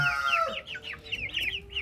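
Brahma chicks cluck in a quick run of short, chirpy calls, fairly close and steady, with a low background hum underneath.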